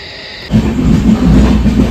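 A Diva-Ratnagiri passenger train rumbles loudly and steadily from inside a coach, a dense low roar with rattling wheels starting abruptly after a quieter opening.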